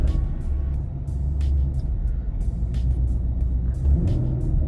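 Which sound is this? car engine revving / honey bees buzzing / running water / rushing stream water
car engine revving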